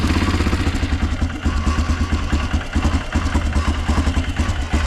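An Arctic Cat 400 ATV engine running with a steady, rapid chugging pulse and a constant mechanical rattle, loud and close, with no talking.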